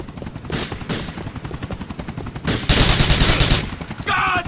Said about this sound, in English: there's a chopper turning up